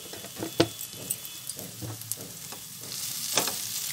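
Sooji upma with desi ghee is stirred in a pan, giving soft scraping strokes and a few light taps over a faint sizzle, close and quiet.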